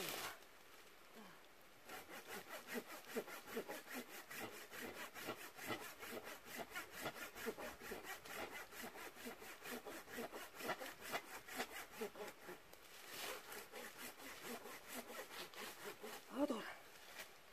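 A hand saw cutting through firewood outdoors, with rhythmic back-and-forth rasping strokes, close and steady for most of the stretch, and brief speech faintly in the background.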